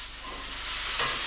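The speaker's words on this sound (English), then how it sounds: "These beautiful onions are getting nice and caramelized." Onions caramelizing in a pan for grain-free vegan beet burgers give a brief, soft, steady sizzle that swells slightly, with no voices.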